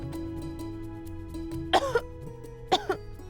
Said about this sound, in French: Et maintenant, tu tousses en plus.